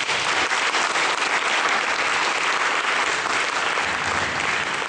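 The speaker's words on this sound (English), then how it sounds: "I think we should all give them another round of applause." Audience applause at the close of a debate between Islam and Christianity speakers, a loud, sustained, even wash of many hands clapping that fills the whole stretch without a break.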